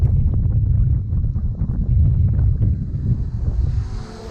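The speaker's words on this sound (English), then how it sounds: "Right now is the wind." Strong wind buffets a microphone outdoors during a fast run upwind, a loud low rumbling roar with gusty fluctuations that eases toward the end, with no voices.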